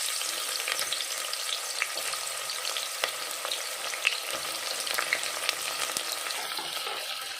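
Sliced big onions and green chillies fry in oil in a pressure cooker for chicken biryani, a steady, moderately loud crackling sizzle with occasional stirring clicks, no voices.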